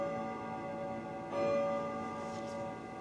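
Church bells ringing in a town in Calabria, Italy, with a sustained, humming bell tone and a fresh strike about a third of the way in, resonant and moderately near, with no voices.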